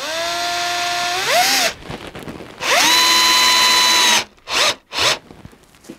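A power drill drives screws into wood for a shaping mould, with two long whirring runs whose pitch rises as the motor winds up, followed by a few short bursts.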